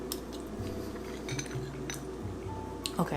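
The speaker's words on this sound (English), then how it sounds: "I'm just stirring in some of my beautiful sauce" Vegan macaroni having a creamy sauce stirred through it, with soft clinks and scrapes of a utensil against the dish, close and fairly quiet, with no talking.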